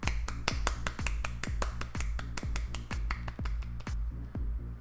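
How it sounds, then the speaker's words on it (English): A steady series of sharp, crisp snaps or claps repeats at an even pace, about four per second, close and alone. "I had to clap."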